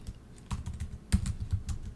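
Quick irregular key presses on a computer keyboard while code is entered, a steady close clatter of soft clicks with no talking.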